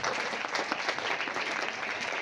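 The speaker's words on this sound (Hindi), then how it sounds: "आप जोरदार तालियां बजाते रहें साथ साथ।" A church congregation in Pakistan clapping together in steady, dense applause that carries on without pause, moderately loud and filling the room.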